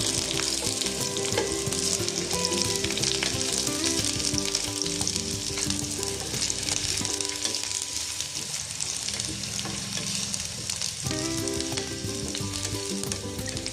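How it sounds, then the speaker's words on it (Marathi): Garlic and ginger fry in hot oil for a Malvani crab curry, giving a dense, steady sizzle with light stirring, heard up close and with nobody speaking. "तर जो लसूण आणि जो आपण आले टाकलेला आहे ते आपण थोडंफार फ्राय करून घेऊ"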